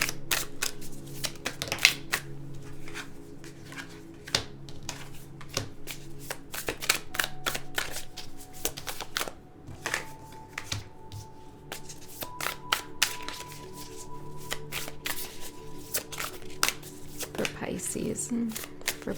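Tarot cards are pulled out and shuffled in a series of sharp, close riffles and flicking snaps, irregular bursts running throughout while a person talks over them.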